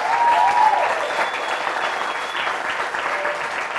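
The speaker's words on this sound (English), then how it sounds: "So give Zikri and Daniel a big round of applause." An audience at a personal-growth talk claps in sustained, dense applause for two guests, a loud, even wash of many hands that fills the room without a break.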